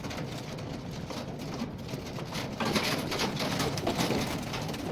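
Rock doves coo steadily in a dense, noisy loft or yard, a continuous flock murmur that grows slightly louder partway through.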